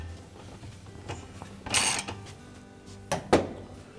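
A Whirlpool washer agitator bolt, 7/16 in, is tightened with a ratchet, producing faint clicking and a couple of short metallic bursts of close mechanical noise.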